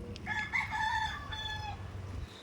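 A rooster crows once, close and clear, a drawn-out cock-a-doodle-doo rising and falling over a low background rumble with no talking.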